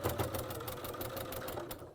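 A sewing machine runs steadily, stitching two straight seams through several layers of a cushion with a walking foot, a fast continuous mechanical whir with rapid needle ticking, close and alone for two seconds.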